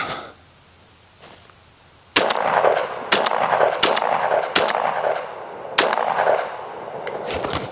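A Benelli M4 shotgun fires slugs at an outdoor range from about 25 yards. Five loud, sharp blasts come at irregular intervals of roughly a second, each with a short echoing tail, after a quiet start.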